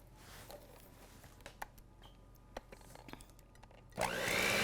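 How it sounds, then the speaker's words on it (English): An electric mixer starts up at the end, whirring loudly over egg batter after a quiet stretch of scattered clicks and taps. "now we want to actually mix it up with a mixer, hand mixer, stand mixer"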